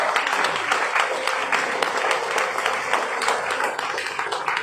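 An audience in a hall claps steadily to welcome a speaker onto the stage, dense continuous applause with a few louder individual claps poking through, close and sustained.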